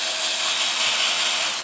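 A hand drill bores into a workpiece without a pilot hole, giving a steady dense whirring grind that holds constant before cutting off abruptly at the end.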